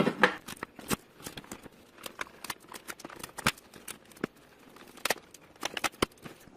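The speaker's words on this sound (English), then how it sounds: "Let's start removing the tape off." Packing tape being peeled off a new Keurig coffee maker during unboxing, sharp irregular ripping and crackling bursts close by, separated by short pauses, with no speech.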